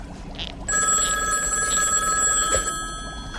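A telephone rings loudly with a steady electronic bell tone, close up and without voices, fading slightly toward the end.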